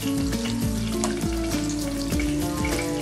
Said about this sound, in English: And that's going to go into our hot skillet where we have about 4 tablespoons of extra virgin olive oil.